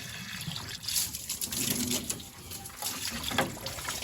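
Running water from a hose pouring and splashing steadily into the radiator of a Land Rover Series 1 109 up close, with a continuous gushing, trickling texture and no voices.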